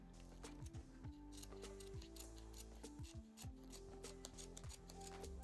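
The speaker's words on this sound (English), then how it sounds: "I'm going to cut from this corner upwards and round it off" Scissors cutting and rounding off the tails of a satin ribbon for a wavy mermaid-style hair bow, with repeated crisp snips in a steady rhythm, close and alone.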